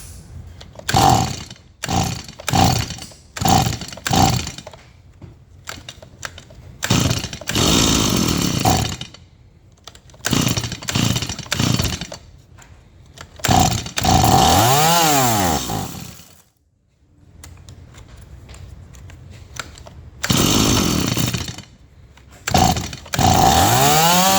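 A Stihl MS170 chainsaw that had trouble starting runs with its chain spinning freely, loud and close, revving in repeated bursts that rise and fall, with one brief drop to near silence before it roars on again.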